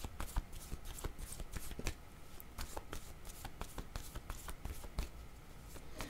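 Tarot cards shuffled by hand, a steady run of crisp riffling slaps and flicks repeating throughout, close and fairly quiet with no talking over them.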